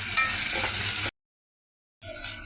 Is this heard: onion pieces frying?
yes